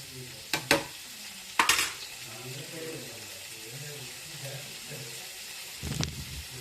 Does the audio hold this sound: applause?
no